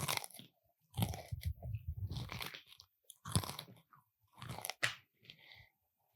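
Pretzels crunched and chewed close to the mic in several loud bursts of crisp snapping and grinding, separated by short pauses, with no talk over them.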